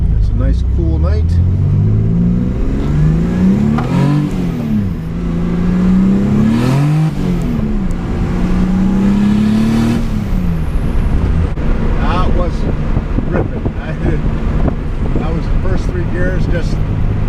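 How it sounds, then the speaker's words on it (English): A Chevrolet Cavalier Z24 engine climbs through the revs under hard throttle, rising and falling as it pulls through gears, loud and droning from inside the car while someone talks over it. "I'm not even sure if I hit full throttle, but I got up there in RPM."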